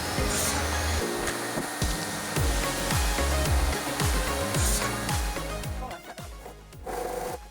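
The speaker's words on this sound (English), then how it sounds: "Here you see me using just the miter saw to work on the legs for the bench that I'm building." A miter saw cuts wooden bench legs, its loud motor whine running almost continuously with repeated descending pitch sweeps as the blade spins up and winds down through successive cuts.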